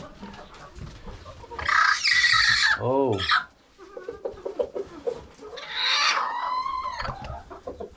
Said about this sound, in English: Oh gosh, we have two broody hens.